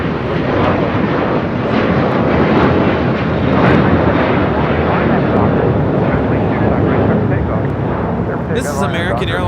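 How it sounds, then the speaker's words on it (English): American Airlines A321 bound for Orlando takes off from LAX, a loud, continuous full-power engine roar filling the whole stretch, with a brief sharper sound at the very end. "This is American Airlines 2135 taking off to Orlando, Florida on an A321"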